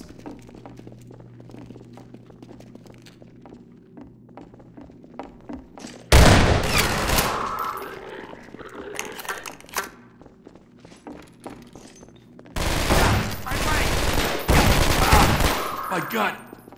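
Gunfire in the Half-Life 2 game during a Combine level: two loud, dense bursts of rapid shots, one starting about a third of the way in and a longer one near the end, over a quiet background hum.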